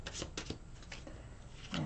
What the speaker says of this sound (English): One more shuffle, and that's it.